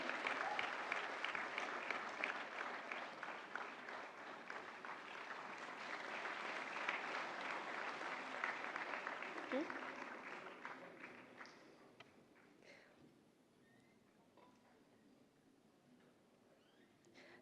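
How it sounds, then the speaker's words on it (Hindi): A large audience at a national film awards ceremony gives sustained, dense applause for a director receiving a golden lotus award. It fades after about eleven seconds to sparse, scattered claps and quiet. "जोरदार तालियां"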